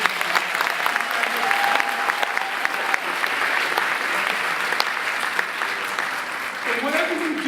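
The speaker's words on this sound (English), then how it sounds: "Let's give Obama a round of applause." An audience applauds steadily for the full stretch at a motivational talk, a dense, even wash of clapping with a few voices faintly mixed in.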